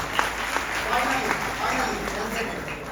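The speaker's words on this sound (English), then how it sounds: "Big round of applause" An audience at an annual charity event claps in a brief round of applause, a moderate, fairly diffuse patter of hands mixed with a voice speaking over it.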